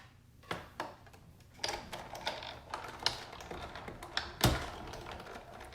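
A die cutting machine is cranked by hand to push a stitched shapes die through paper, producing quiet, irregular clicks and ratcheting knocks with a sharper clack near the end.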